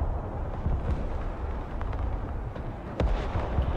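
Missile explosions in the military game Broken Arrow, a rumbling barrage of deep blasts with sharper impacts around the middle and a louder hit near the end, over a continuous low roar.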